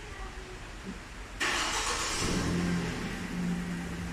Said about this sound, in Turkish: Uzaktan da şu şekilde çalıştırabiliyoruz.